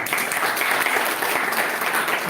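Dense, steady applause from a seated audience at a literary criticism talk, a continuous wash of many hands clapping at once, fairly loud and unbroken from start to finish.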